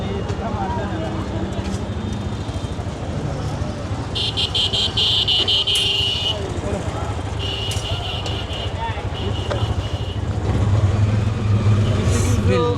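A CNG auto-rickshaw engine drones steadily throughout a ride in Bangladesh, with low road rumble, intermittent horn-like tones from passing traffic and a slightly louder surge near the end, while faint voices mix in.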